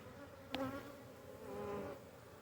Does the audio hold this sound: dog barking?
no